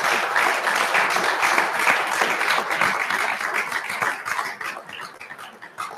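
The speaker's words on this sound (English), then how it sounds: "Let's give them a big round of applause." An audience applauds veterans at a VA suicide prevention event, dense sustained clapping filling the room at steady volume for the full stretch, easing slightly toward the end.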